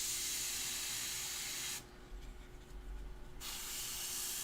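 Airbrush spraying paint for a miniature commission, a loud steady broadband hiss that cuts out briefly mid-burst before resuming at full strength.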